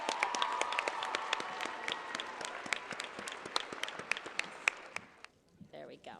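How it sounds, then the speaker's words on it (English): Audience round of applause for the contestants on stage at the Mr. Parkland 2010 pageant, a dense run of sharp claps that thins out toward the end, followed by a brief voice. "Let's give them a big round of applause"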